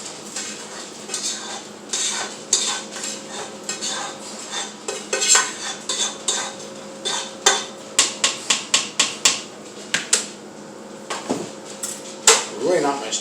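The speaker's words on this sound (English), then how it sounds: "I'm going to take the rest of my rice, as you can see here, and dump it in" Rice dumped into a pot of pork loin soup, giving a run of sharp metallic clinks and clatters against the pot, close and fairly loud, with a faint background hum.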